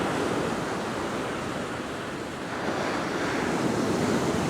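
Strong wind buffets the microphone on a beach while waves break and wash in steadily, a loud continuous roar of surf and gusting noise with no speech.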